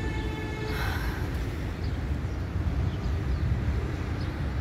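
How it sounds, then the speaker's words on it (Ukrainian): A tram rolls past in Zurich, a steady broadband rumble with a brief higher whine near the start, close and continuous throughout. "Вон іде трамвай."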